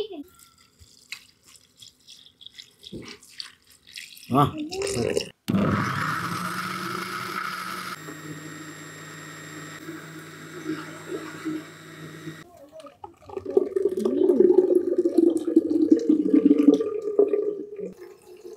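Water is poured into a pot while a country chicken curry cooks, giving a steady rushing pour with drips and clatter, followed by louder kitchen noise, with voices talking nearby.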